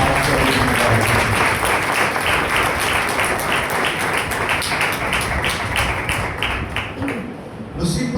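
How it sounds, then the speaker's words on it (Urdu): Applause from a church congregation at a Pentecost Sunday service fills the space with steady, sustained clapping that fades slightly toward the end. "میں چاہتا ہوں کہ ہم سب بھرپور تالیاں بجا کر ایک دوسرے کو آج کا دن مبارک کریں۔"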